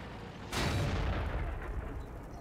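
A single heavy tank gun blast from a Type 59 in World of Tanks on the El Halluf map, a sharp loud boom that rolls into a long rumbling decay.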